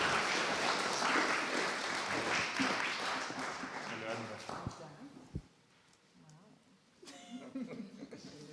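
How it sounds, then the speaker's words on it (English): Audience applause rises at a science fellowship awards ceremony as an honoree is welcomed to the stage, several seconds of full clapping that fades away, followed by a quieter pause and a few scattered sounds. "Please welcome with applause Katriin Reedo on the stage."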